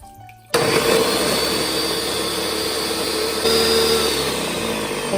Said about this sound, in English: Blend cooked rice, salt, sugar, and water in the blender.